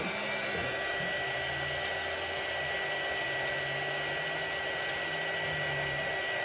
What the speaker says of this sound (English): we're going to change the direction of which the motor is spinning